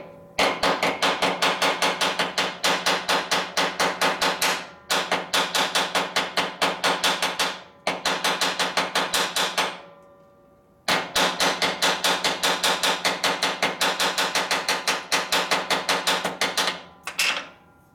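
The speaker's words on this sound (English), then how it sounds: "we can straighten it a little bit by beating on it with a hammer down here" A hammer beating on a part from a 1967 Harley-Davidson 74ci shovelhead to straighten it, delivering rapid, evenly spaced metallic blows in four long bursts separated by short pauses, close and loud.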